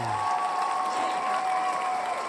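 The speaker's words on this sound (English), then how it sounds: "I played cheering" A canned cheering-and-applause crowd effect played during a podcast episode, a steady dense wash of clapping and crowd noise that holds at an even loudness for a couple of seconds.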